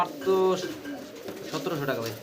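Caged pigeons at a pigeon market coo in soft, low throaty calls close by, while someone talks over them amid market chatter.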